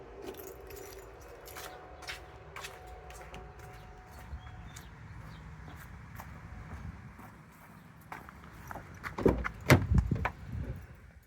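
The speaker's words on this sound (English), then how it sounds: "Let's grab the key." A bunch of keys jangles up close in a 2023 Kia Soul during an air filter replacement, faint clinks at first, then a louder burst of metallic jingling and rattling near the end.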